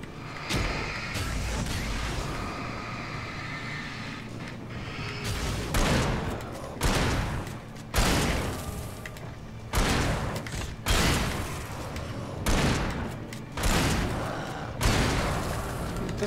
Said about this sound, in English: Doesn't seem as powerful as the other shotgun